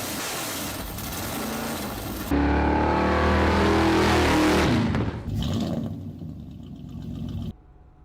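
An old classic car's overhead valve engine idles roughly, then roars into a loud, deep rev for a few seconds before dropping back and cutting off.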